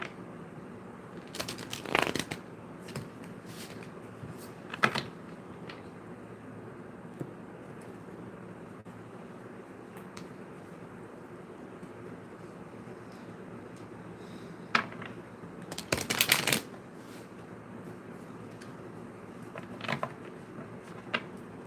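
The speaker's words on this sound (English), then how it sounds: "Shuffle these one more time." Tarot cards shuffled by hand in a couple of short riffling bursts, one early and one later, with small taps and handling noises between them over a quiet room background; no talking.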